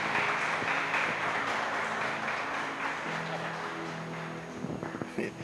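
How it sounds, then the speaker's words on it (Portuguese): A congregation claps during a church worship service. The applause is a steady, fairly soft patter of many hands, with a faint tonal hum behind it. "Pode aplaudir o Senhor."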